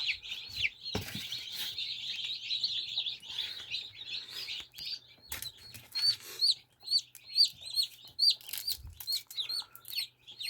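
High-pitched chick peeping fills the clip, a dense chorus at first, then a single chick's clear, rapid cheeps stand out near the end, with occasional soft thumps.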